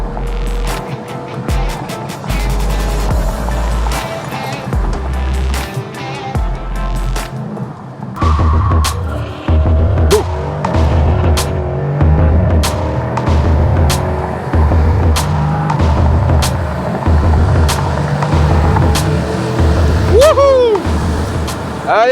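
A Dodge Challenger R/T engine drones loud and steady while driving, with low rumbling pulses early on and rising whines later, and a voice breaks in briefly over it.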